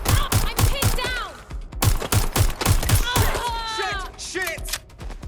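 Repeated bursts of close, loud automatic gunfire in Watch Dogs: Legion, with sharp evenly spaced shots in volleys and brief pauses, while a voice shouts between and over the firing.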